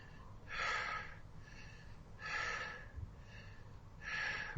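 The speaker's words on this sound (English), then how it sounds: "Inhale, exhale, connected without a pause." Conscious connected breathing: slow, deep inhales and exhales run together without pauses, three strong airy breath swells close to the microphone with softer breaths between, no talking.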